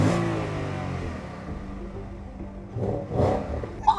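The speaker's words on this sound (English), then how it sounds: "This is what the revs look like from inside and sound like from inside." A Porsche Panamera GTS revs from inside the cabin: a loud, rich engine note flares at the start and slowly fades, then a second shorter blip of revving comes near the end.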